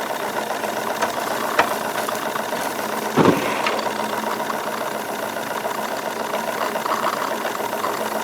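A Wilesco D22 model steam engine chugs along steadily, a busy mechanical knocking rhythm, with a couple of brief louder clunks partway through.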